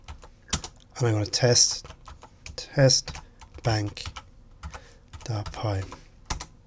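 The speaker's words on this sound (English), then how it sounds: "I'm going to type PyTest" Keyboard typing on a computer while someone talks through running a test on a Python file, the keystrokes soft and partly buried under his steady speech.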